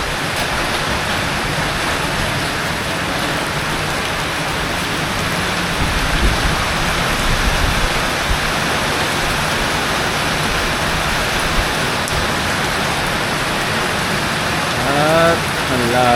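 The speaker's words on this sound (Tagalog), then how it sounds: "umuulan na naman mga tol" Loud, steady downpour drums without pause amid rising floodwater; a voice briefly comes through near the end.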